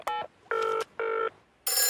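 A cartoon telephone rings in short electronic bursts, three clear rings evenly spaced and loud, in a Peppa Pig episode.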